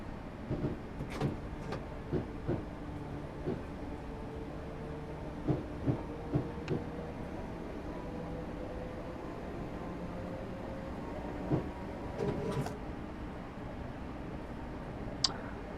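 A Class 313 electric multiple unit running between North Woolwich and Stratford in a train simulator game, a steady low motor and rolling hum with occasional clanks and squeaky whine tones rising and falling.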